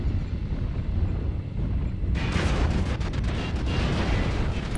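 Rotary autocannon fire in the MechWarrior Online game: a dense rumbling battle bed, then a rapid burst of crackling shots that continues steadily to the end, loud and close.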